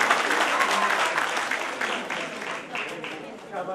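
Audience at a Dogra Sadar Sabha get-together claps together in a sustained, dense burst of applause that fills the room and fades slightly toward the end.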